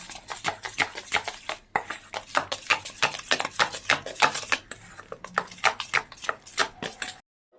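A utensil beating lentil batter with salt and turmeric in a bowl, quick rhythmic clacking strokes in bursts with short pauses, close and fairly quiet.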